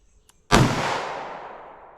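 A single loud, close gunshot from a .38 Special firing a Liberty Civil Defense 50 grain round at a chronograph range: a sharp crack followed by a long, fading echo, after a moment of quiet.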